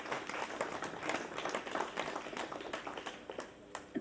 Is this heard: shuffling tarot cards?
no